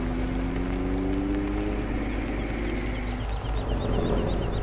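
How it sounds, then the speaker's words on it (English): A modded truck in Farming Simulator 2017 rumbles loudly with a deep, throbbing engine drone and a dropping whine as its Jake brake engages, heard up close with no voices. "I didn't like the sounds that it made, so I changed it. I changed this Jake brake."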